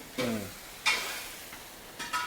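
Peanut powder is stirred into a tomato curry in a pan, giving a few short scraping stirs with soft sizzling between them, close and moderately loud, with no voices.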